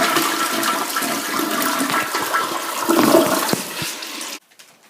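A household toilet flushes with a loud rushing gush of water that churns for about four seconds, then cuts off sharply into near quiet.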